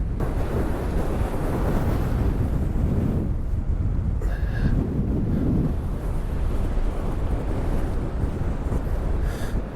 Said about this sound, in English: that wind's definitely picked up